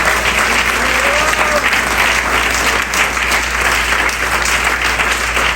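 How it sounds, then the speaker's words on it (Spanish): A church congregation applauding the Lord during a Spanish-language sermon, dense steady clapping that fills the whole room and holds at an even, loud level throughout. "Denle un aplauso fuerte al Señor."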